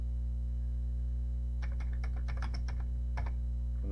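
Keys clattering on a Commodore 64 keyboard as a program is typed in, a quick irregular burst of clicks followed by a brief pause and a short final cluster, over a steady low electrical hum.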